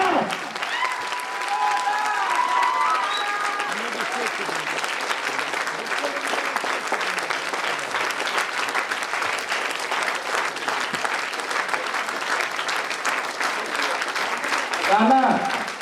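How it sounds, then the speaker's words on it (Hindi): A large audience at a celebration event in Mughalsarai applauds to welcome a speaker, with loud continuous clapping throughout, a voice calling out over the applause, and a brief surge near the end. "जोरदार तालियों से वेलकम करते हैं"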